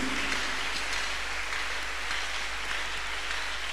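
Church congregation at a Tuesday miracle service clapping their hands, a dense, continuous wash of many hands that stays steady and fairly loud throughout, with no voices standing out.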